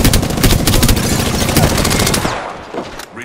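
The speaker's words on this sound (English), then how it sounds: "Opening fire on the enemy." Rapid automatic gunfire in Apex Legends, loud and close, a sustained burst of shots for about two seconds before it cuts off into quieter game sounds.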